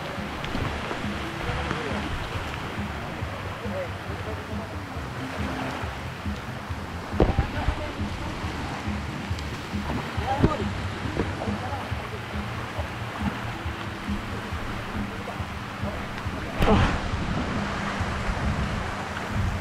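Steady rain and wind wash over an open boat at sea, with constant hiss, splashing water and occasional gusty thumps against the microphone, all continuous and fairly loud, while voices talk faintly underneath.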